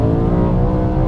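A loud, deep BMW M3 E92 engine roar with a throaty air intake rumble, steady and close, with no voices.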